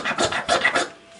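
A magnesium fire starter scraped by hand in a few quick, loud rasping strokes close up, then stopping and trailing into quiet.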